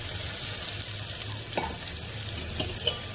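Chopped onion with crushed garlic and asafoetida fries steadily in a pan, a dense continuous sizzle with a few faint utensil clicks, close and fairly loud with no talking.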